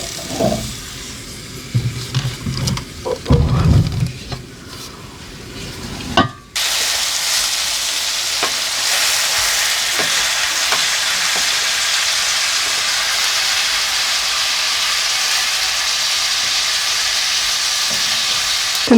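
Sausages sizzle in a hot pan in a Russian stove, a few seconds of soft clattering and stirring giving way to a steady, even fry.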